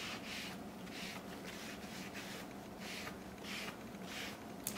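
Cloth wiping whitewash in straight strokes across a thrifted home decor piece, soft repeated rubbing swishes in a steady rhythm, close but faint with no talk.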